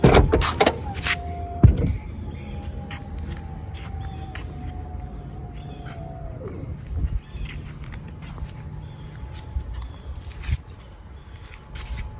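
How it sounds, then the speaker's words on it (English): A 2001 Mercedes-Benz SL500 with very low mileage working its power soft top: a steady electric motor whine runs for several seconds, stops, then resumes briefly, with latch clicks and clunks at the start and end, close by and without talk. "right now you're going to get to see that soft top and the actual operation of it"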